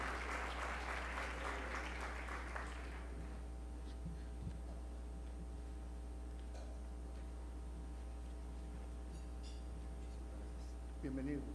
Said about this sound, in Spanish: Le pido por favor un aplauso